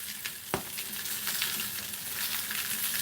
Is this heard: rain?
no